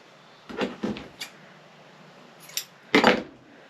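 Scissors snip through old t-shirt fabric while a doll dress is trimmed even, giving a few separate crisp cuts close by, a short pause, then one stronger snip.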